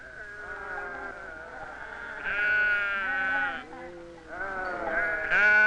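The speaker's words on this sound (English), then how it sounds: "There were some fine sheep at the fair." Sheep bleat at a county fair in long wavering cries, several overlapping calls close by, one after another against a faint background murmur.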